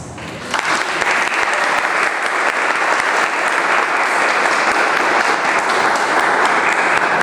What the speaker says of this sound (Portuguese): gostaria que vocês recebessem eles com uma salva de palmas